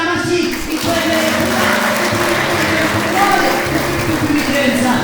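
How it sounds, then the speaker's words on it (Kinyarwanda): A church congregation claps during a sermon, steady dense applause filling the space for several seconds, loud and continuous. "Komera Imana amashyi"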